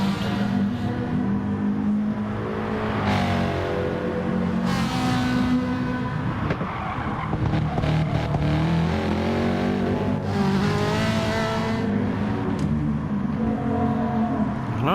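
Race cars in a GT racing video game lap Brands Hatch GP on the final lap of a Pro-Am race, engines revving up and down through gear changes, with cars roaring past close and loud and brief tire squeal.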